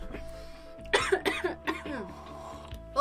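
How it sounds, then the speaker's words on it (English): A person coughs in a short fit after smoking, several harsh, close coughs bunched together with throat clearing, loud against a quiet room. "I actually have minor cough fits off of it."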